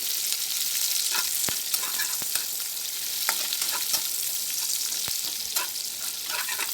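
Onions fry in three tablespoons of oil for a fish curry, a close steady sizzle broken by frequent sharp crackles and spatters as they are stirred.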